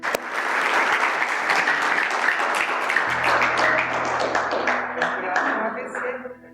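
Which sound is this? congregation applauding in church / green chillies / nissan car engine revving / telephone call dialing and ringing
congregation applauding in church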